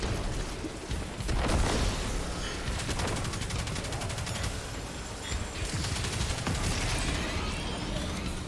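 Turret gunfire in the video game Destiny 2: a dense, continuous fusillade of rapid automatic shots with booming impacts, loud and sustained throughout, with no speech.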